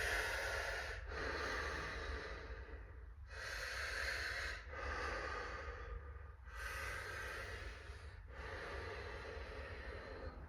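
Slow, heavy breathing during a head movement exercise, with long audible inhales and exhales alternating in an even rhythm, close and fairly quiet over a low steady hum.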